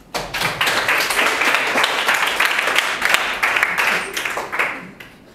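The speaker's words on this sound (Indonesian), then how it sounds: "Yang seru boleh tepuk tangan dong." A crowd applauding steadily for about five seconds, dense clapping that tapers off near the end, with no talking over it.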